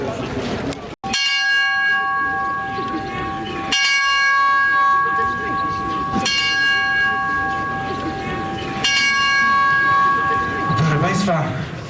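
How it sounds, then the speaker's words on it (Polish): A ship's bell aboard the warship ORP Błyskawica rings in four paired strikes, eight loud ringing clangs in all, each pair leaving a long shimmering decay, with a sharp bang just before the first pair and crowd noise beneath. "8 uderzeń w dzwon okrętowy"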